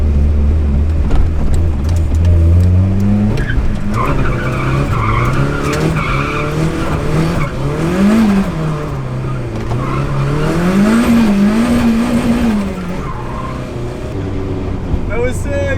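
Nissan S13 car drifting uphill at night on an empty road, tires skidding in a long loud continuous slide with engine revving and rising and falling pitch, close and dominant throughout.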